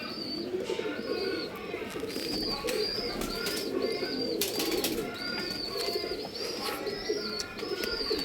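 Phatta pigeons kept for sale coo repeatedly and rhythmically at close range, the soft rolling calls overlapping with occasional higher chirps over constant background hum.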